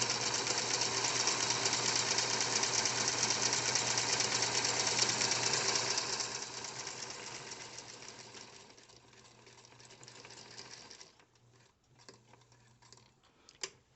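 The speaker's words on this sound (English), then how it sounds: "Use your sewing gut and sew around the entire edge" A sewing machine stitching around the edge of a crossbody purse runs in a fast, steady mechanical whir, close and loud, then slows and stops with a few clicks near the end.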